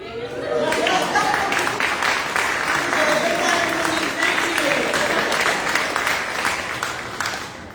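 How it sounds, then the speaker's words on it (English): A banquet-hall audience at a book awards gala breaks into sustained clapping that swells quickly and holds steady for several seconds before tapering off, with scattered voices underneath. "Well, let's clap anyway."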